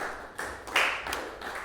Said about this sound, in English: can you hear me over your own clapping?